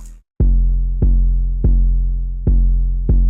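Deep, booming 808 bass notes hit in a steady rhythm in a beat, each one sustaining and sliding in pitch, loud and alone after a brief pause.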